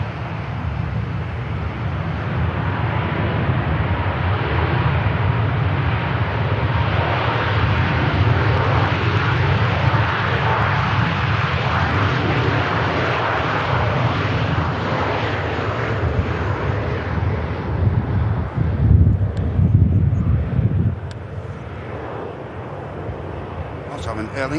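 An airliner touching down and rolling out at Manchester Airport, a loud, steady roar of engines and rushing air that stays close throughout and eases slightly near the end, with a voice talking over it.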